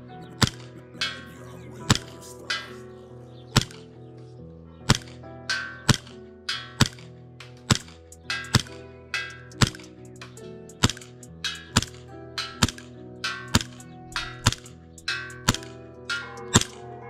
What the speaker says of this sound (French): J'enchaîne, je tire quand même assez vite là sur une petite cible et ça passe super bien.